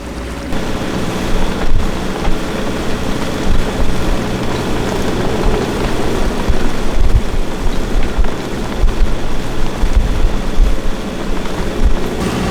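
Loud, steady wind rush with broadband wash from a rain shower and wind buffeting the microphone, continuous throughout with no voices.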